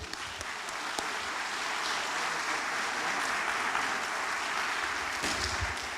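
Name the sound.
audience applause in church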